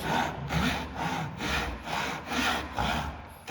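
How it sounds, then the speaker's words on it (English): Tenon saw wearing a groove into wood held on a bench hook, giving about seven rhythmic back-and-forth rasping strokes, close and clear with no talk. "using our tenon saw again and our bench hook"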